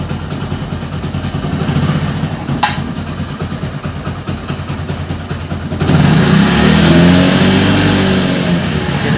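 A motorcycle fitted with an LPG kit, engine revved on the throttle, running steadily with a clattering idle before rising to a louder, fuller rev near the end, recorded up close.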